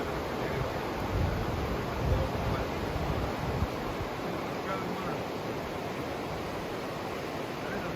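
River water flows through New River Gorge National Park, a steady broadband rushing wash that stays loud and even throughout, with a few brief bumps early on and no talking.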